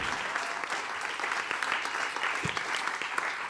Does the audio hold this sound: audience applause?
yes